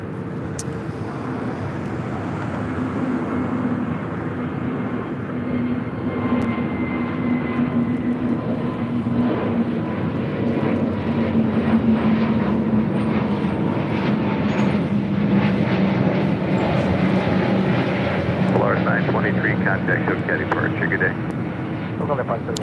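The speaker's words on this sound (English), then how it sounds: "This is Vladi's 923 taking off to Zacatecas on an A320neo, the Barbie livery." Airbus A320neo airliner taking off at LAX, a steady loud jet engine roar holding for over twenty seconds with a slowly sliding whine, while people talk nearby.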